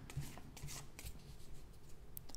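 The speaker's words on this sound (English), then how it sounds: "Let me shuffle the cards a little bit." Tarot cards from a well-worn deck are shuffled in a quiet room, producing soft, continuous papery riffling and brushing with a few faint taps, steady and close throughout.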